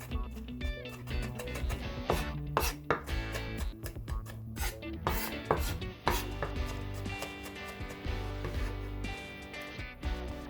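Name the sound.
garlic being finely minced with a knife on a cutting board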